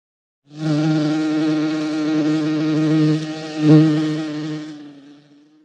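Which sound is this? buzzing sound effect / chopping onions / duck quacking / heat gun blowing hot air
buzzing sound effect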